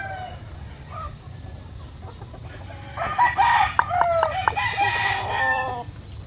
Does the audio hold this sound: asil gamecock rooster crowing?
yes